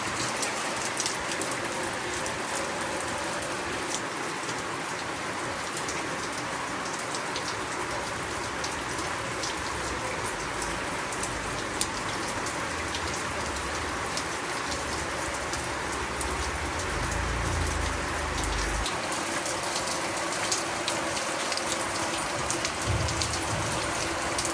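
Steady rain falls in cold weather, a dense, even hiss of drops close by that continues without a break.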